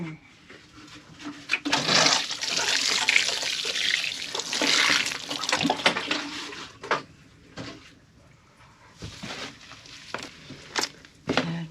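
Water poured from a tap or jug into an onion seed-starting mix while it is stirred, a soft splashing rush building for several seconds and then fading into scattered clinks and handling noises, with no talking.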